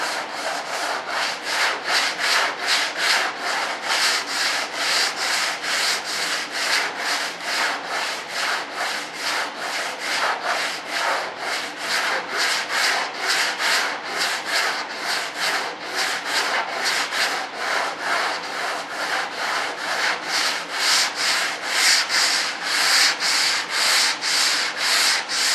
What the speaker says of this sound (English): This long sanding block should take care of that.